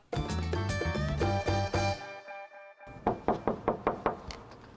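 Knocking on a door: a music passage fades out, then six sharp, evenly spaced knocks ring out clearly and close, with no talk over them.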